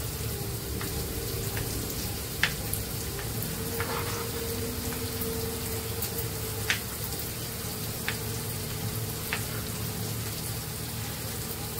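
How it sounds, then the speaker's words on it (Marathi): Onion cooking in a pan for a village-style breakfast, a steady soft sizzle with occasional sharp pops and crackles throughout, close and without talk. "कांदा मस्त शिजतोय."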